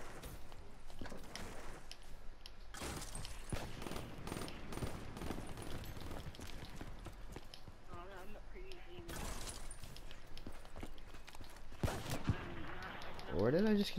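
M8 gunfire in a first-person shooter, heard as bursts of rapid shots scattered through the clip, mixed with game effects and occasional voices talking.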